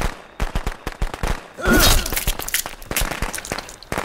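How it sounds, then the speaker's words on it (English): Fireworks in Friday the 13th: The Game pop and crackle in a quick scattered series, with a louder swelling burst partway through and sharp cracks continuing after. "The fireworks are going off too."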